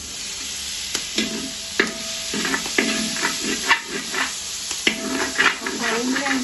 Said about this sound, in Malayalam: ഇനി തക്കാളി ഇട്ട് കൊടുക്കാം.